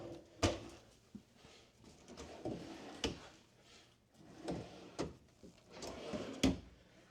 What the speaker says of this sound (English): Again, soft close drawers.